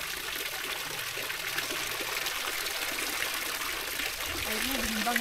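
Water trickling and streaming steadily through a French mountain village in autumn, a continuous close rushing flow with a brief voice near the end.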